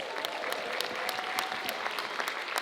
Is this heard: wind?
no